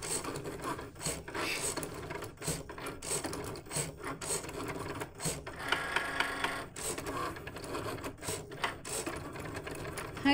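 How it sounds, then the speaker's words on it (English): A Cricut cutting machine cuts bee shapes, producing a busy mechanical clatter of whirring motor, ratcheting carriage moves and rhythmic scraping strokes with short pauses, close-up and continuous, with no voices. "So the Cricut is actually cutting the bees right now."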